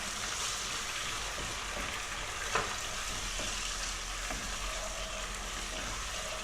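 Tomato paste sizzles and fries in a pan as it is stirred, a steady, fairly quiet crackle broken by a few soft scrapes and one brief clack of a spoon.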